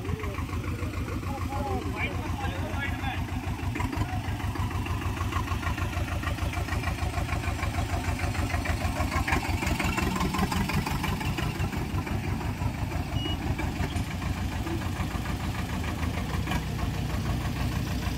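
A tractor engine idles with a steady, rapid mechanical knocking throb that holds close and even throughout. Voices talk over it.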